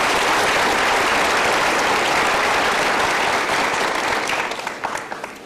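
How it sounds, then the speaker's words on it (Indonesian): Studio audience applause on a television talk show, loud and sustained dense clapping across the whole stretch, tapering off slightly near the end with a few distinct claps standing out. "Kita berikan tepuk tangan sekali lagi untuk sahabat-sahabat super kita."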